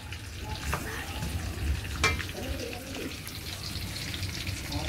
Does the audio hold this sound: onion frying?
yes